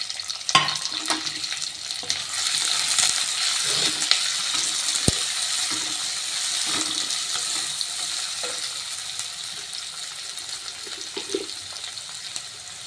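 Sliced shallots, onions and green chillies with a little salt fry in a pan for a Kerala-style river fish curry, a steady bright sizzle with scattered scrapes and taps of stirring, close and unbroken, without speech.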